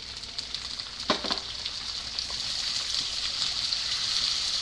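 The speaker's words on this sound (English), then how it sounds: "Now I'm going to add in the shrimps." Shrimps dropped into a hot pan with onion set off a loud, steady frying sizzle close up, with a brief clatter of stirring near the start and no voices over it.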